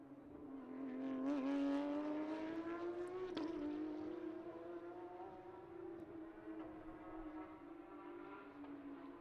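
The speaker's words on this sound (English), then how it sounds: "The familiar howl of the flat 6." A Porsche flat-six race car engine howls as it passes during Carrera Cup qualifying, a rising and falling mechanical wail that swells early and then fades into a steady drone.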